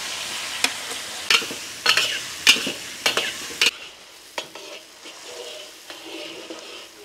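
In a wok, chili peppers fry in shrimp oil, sizzling steadily while a spatula scrapes and stirs in repeated sharp strokes that fade toward a quieter sizzle.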